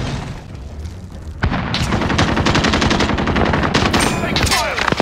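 Heavy automatic gunfire in Call of Duty Warzone, a battle royale shooter, erupts after a quieter opening and rattles on in rapid, dense bursts with booming impacts, loud and close throughout.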